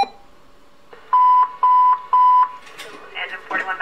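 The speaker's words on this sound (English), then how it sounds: "has the ability to alarm upon the receipt of a programmed two-tone page" A Uniden BCT-15X scanner set to alarm on a fire two-tone page gives three loud, evenly spaced electronic beeps. Brief radio noise and faint static follow.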